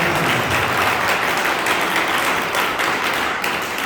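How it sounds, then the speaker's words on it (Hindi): A large audience claps at a Hindi poetry gathering (kavi sammelan) in Jalna, producing dense, continuous, loud applause that carries on steadily from start to end. "मुट्ठी भर ईमानदार तालियां बजाएं"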